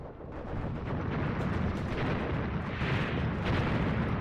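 Artillery shells and mortar rounds explode in the Graviteam Tactics war game, a dense, continuous barrage of booms and rumbling blasts overlapping with no gaps, loud and steady throughout.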